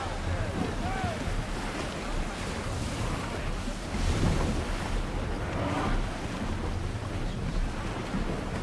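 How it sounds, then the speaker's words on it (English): A ship setting sail at sea in Assassin's Creed Odyssey, with a steady, dense rush of wind and ocean waves washing against the hull, loud and continuous throughout. "Get ready to set sail!"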